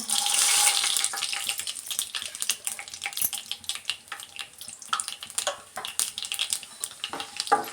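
Chana dal and whole urad are fried in a pan for a pumpkin palya, giving a steady close sizzle with irregular stirring and scraping clicks.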